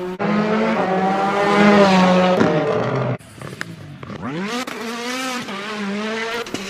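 Engine roar and tire noise from a rally car crash in the WRC Powerslide video game: a loud, steady engine drone that cuts off abruptly, followed by quieter revving that rises again.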